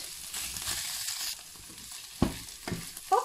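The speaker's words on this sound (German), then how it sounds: "Jetzt gebe ich die Zwiebel dazu und brate nochmal circa 5 Minuten das Ganze mit." Onion frying with seared beef in a pan, a soft continuous sizzle with a few louder stirring scrapes and clatters near the end, no one speaking.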